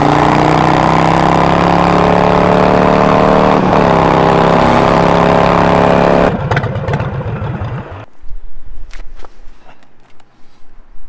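Custom motorcycle engine revving hard with an open exhaust, loud and close, holding a high steady roar before dropping back to a rough, uneven idle with a few clunks.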